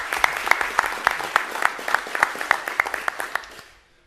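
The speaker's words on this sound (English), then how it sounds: "So if we could have a round of applause for the PRAC and for Victoria." A round of applause from attendees at a special board meeting, a small group clapping steadily and fairly close, then tapering off and fading out near the end.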